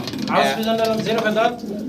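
Fancy pigeons coo close by in a soft, throaty rolling call, with a voice talking alongside.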